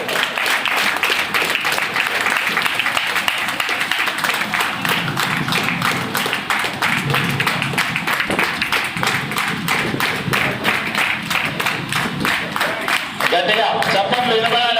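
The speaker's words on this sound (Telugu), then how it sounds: "గట్టిగా చప్పట్లు వినబడాలి." A crowd at a bus corporation (RTC) retirement ceremony in Hyderabad claps in a long, dense, rhythmic run that barely lets up, with a voice talking over the applause throughout.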